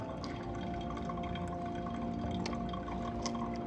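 Hot water poured steadily from a kettle into a V60 pour-over dripper onto the coffee bed, a continuous close trickling and dripping stream without pause or voices.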